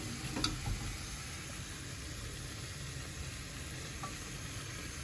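Seafood and lobster tail sauté with garlic in a pan for ginisang munggo, giving a steady, fairly quiet sizzle that holds evenly throughout with a couple of faint clicks.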